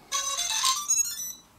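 Pilotfly C45 camera gimbal motors switch on and buzz, giving a brief, close, tonal whine that steps in pitch for about a second before fading.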